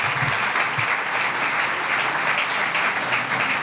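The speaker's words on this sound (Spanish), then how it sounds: "Un fuerte aplauso para ellos." An audience at an awards gala breaks into sustained, even applause, a thick, continuous roar of many hands clapping at steady loudness throughout.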